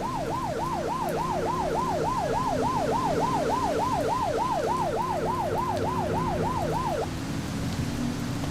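A police car siren in a police officer video game wails in a fast, regular up-and-down yelp for about seven seconds, loud and close, then cuts off, leaving low engine rumble.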